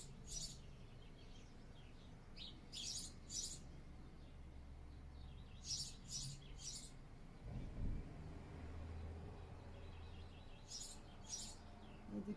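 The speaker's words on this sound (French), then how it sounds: "Et profitez avec moi du chant des oiseaux." Clusters of high, bright bird chirps come in bursts over a steady low background rumble of passing traffic, with no one talking.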